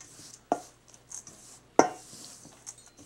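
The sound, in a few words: mixing cheddar cheese into biscuit dough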